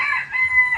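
A young rooster, a bullstag, gives a short, strained crow, a brief reedy call that wavers and breaks off.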